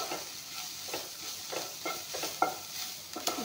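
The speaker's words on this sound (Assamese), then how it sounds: "ধুনীয়াকৈ পিঁয়াজ জলকীয়াখিনি ভাজি ল'লোঁ।" Low, close sizzling of onion and green chilli frying over a gentle flame in a pan, with soft repeated stirring scrapes and a couple of light clicks of the utensil.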